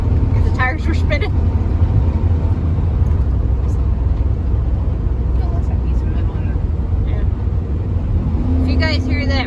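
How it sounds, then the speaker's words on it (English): A farm truck engine drones steadily up close, with a loose piece of metal rattling inside its muffler, while people talk over the running motor throughout. "If you guys hear that rattling in the back, there's actually a piece of metal flopping around in the muffler."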